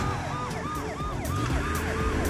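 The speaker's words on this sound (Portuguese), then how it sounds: "Vou ligar a sirene!" A wailing emergency siren sweeps up and down repeatedly, loud and close, over a steady low engine rumble.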